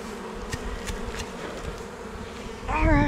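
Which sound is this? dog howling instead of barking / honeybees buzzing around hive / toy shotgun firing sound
honeybees buzzing around hive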